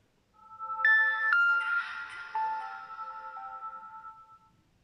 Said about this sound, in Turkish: Telefon açıldı arkadaşlar.